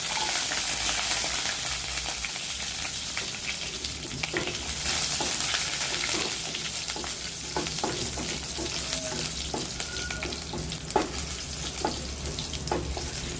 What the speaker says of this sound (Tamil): பூண்டு வதங்கி வர வரைக்கும் நம்ம வதக்கவும் பார்க்கலாம்